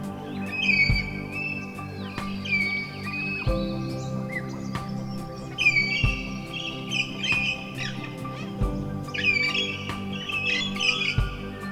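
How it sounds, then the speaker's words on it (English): Kookaburras and yellow-tailed black cockatoos call outdoors at dawn in a winter forest, harsh squawks and chattering cries from several birds at a distance, against a steady low background hum. "you can hear a bunch of wild birds. Kookaburras are going. I'm hearing the yellowtail black cockatoos as well."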